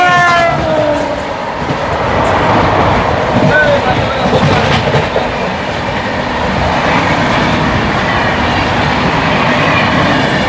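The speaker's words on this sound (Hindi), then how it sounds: "डिब्रूगढ़ राजधानी आ चुकी है 12423, डिब्रूगढ़ न्यू दिल्ली राजधानी।" The Dibrugarh–New Delhi Rajdhani Express pulls into a station with a loud, close rumble and clatter of wheels on rails, and brief wheel squeals sound near the start.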